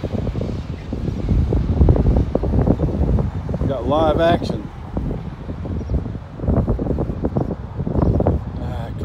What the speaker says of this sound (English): And it's windy again. Sorry about the wind.